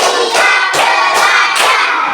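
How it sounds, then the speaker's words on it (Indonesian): Schoolchildren in a third-grade classroom clap in unison, three loud sharp rhythmic bursts of many hands spaced evenly and close, with no talking. "agar kita tambah semangat belajar, kita tepuk dulu"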